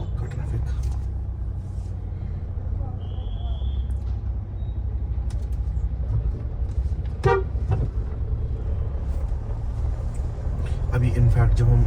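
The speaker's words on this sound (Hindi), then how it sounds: "थोड़ा सा भी चौक का ट्रैफिक" Busy intersection traffic heard from inside a Maruti Suzuki Jimny or Mahindra Thar, with a steady low engine and road rumble, scattered car horn toots near the middle and a louder cluster of honks at the end, with voices talking.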